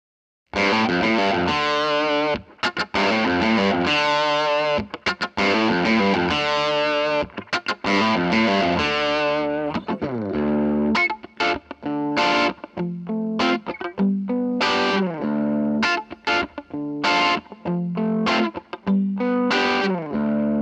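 A loud electric guitar run through computer reverb and delay plays sustained distorted chords, then shifts to choppy, rhythmic stabs with short gaps, close and alone.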